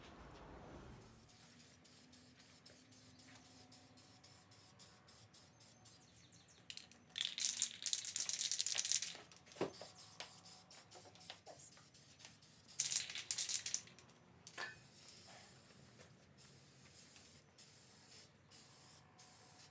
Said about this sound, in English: Use the first coat of primer. I try to do it light as possible.